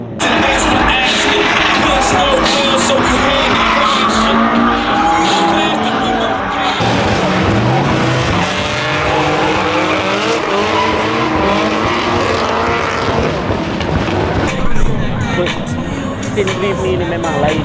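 A drift car's engine revs hard and its tires squeal at a street drift event in Kuala Lumpur, the noise continuous and loud, with a crowd and people talking over it.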